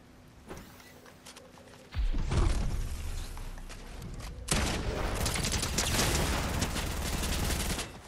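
SMG fire in the Fortnite video game, a quiet lead-in broken by a sudden loud, sustained burst of rapid automatic shots, then a second long unbroken spray close up.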